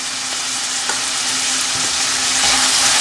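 Fried mushroom manchurian is stirred in a hot pan, with a loud, steady sizzle and hiss running throughout and occasional faint scrapes of the utensil, close and without speech.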